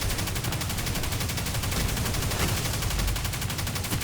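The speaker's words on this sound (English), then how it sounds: "I'm shooting these guys that are tethered" Rapid, continuous automatic gunfire in the Destiny video game during a Nightfall mission keeps up a dense, even stream of shots throughout, loud and close, with no speech.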